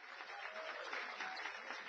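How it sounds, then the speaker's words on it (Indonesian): Congregation applause at a church worship service, a dense steady wash of clapping throughout, fairly faint and distant, with no clear talk on top. "Tepuk tangan buat Allah kita, haleluya"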